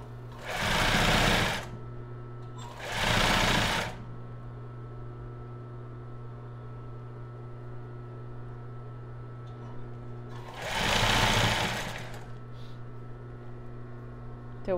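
Sewing machine stitching elastic onto a crop top with lace, three loud close bursts of steady rapid stitching, each a second or two long, over a constant low hum with no talk.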